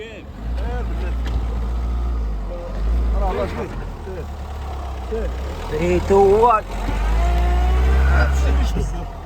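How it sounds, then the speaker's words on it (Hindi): A car stuck in desert sand revs its engine, a loud low drone that swells and strains in bursts close by, while people talk over it. "हमारी गाड़ी है जो वो रेत में फंस गई है इधर, क्योंकि ज़ाहिर बात है डेजर्ट है तो रेत में फंस गई"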